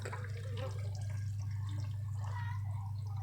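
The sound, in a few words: water draining out of a washing machine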